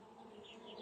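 Honeybees in a hive that is preparing to swarm give off a close, continuous buzzing drone, soft but steady throughout, with no voices.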